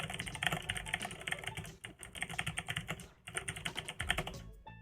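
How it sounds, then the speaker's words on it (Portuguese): Rapid keystrokes on a computer keyboard clatter in a dense, continuous stream with a brief pause midway, ending with a final key press, close and fairly loud with no talking. "apertei o Enter na hora que veio o aviso"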